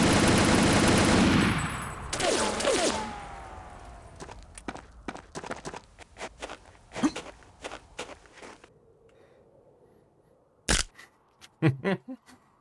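Gunfire from a video game weapon: a loud, dense burst of rapid automatic fire at the start, then scattered sharp single shots and clicks at varying distances, with a few last close, punchy shots near the end.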